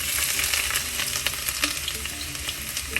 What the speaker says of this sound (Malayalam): ഉലുവ മൂക്കാൻ തുടങ്ങിയിട്ടുണ്ട് അതിലേക്ക് ഇഞ്ചി ചേച്ചത്